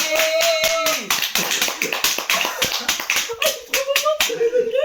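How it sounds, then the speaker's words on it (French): Quick, sharp handclaps ring out in bursts during the making of a school production, with voices and a sung or hummed tone running alongside the clapping. "On applaudit."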